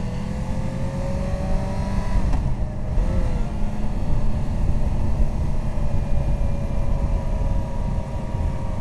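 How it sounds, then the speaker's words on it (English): The inline-four engine of a 2013 Yamaha FZ6R motorcycle revs at high rpm around 70 mph, a loud, smooth, continuous whine with a brief dip as the throttle shifts, heard up close alone. "Inline 4 sounds and feels so smooth."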